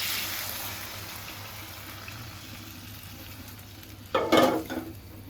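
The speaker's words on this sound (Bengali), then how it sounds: "মশলাটা ভালো করে কষানো হয়ে গেছে এবার পরিমাণ মতো জল দিয়ে দিবে" Water poured into a pan of frying spice masala sets off a sudden loud burst of sizzling near the end, rising over a low, steady frying hiss before fading.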